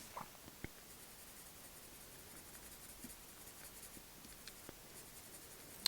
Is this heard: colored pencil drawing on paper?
yes